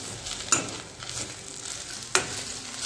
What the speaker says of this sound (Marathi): सो आता आपण आपला मॅश केलेला बटाटा त्यात ॲड करूया आणि व्यवस्थित हलवून घेऊया।